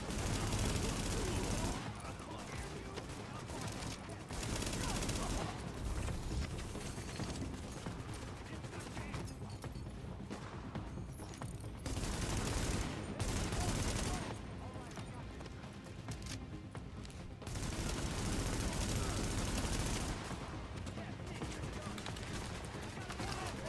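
Sustained enemy gunfire in The Division video game, dense and continuous bursts with brief lulls over a long stretch, mixed with voices and game sound.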